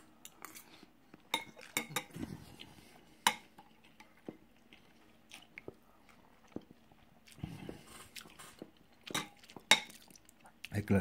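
Metal utensils clink and scrape against a bowl of quick Asian noodles with salmon and soy sauce, in scattered close taps and short bursts with pauses between.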